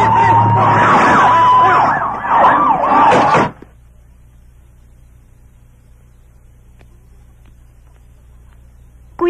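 A police siren wails loud and close for about three and a half seconds amid action-movie commotion, then cuts off abruptly into near silence.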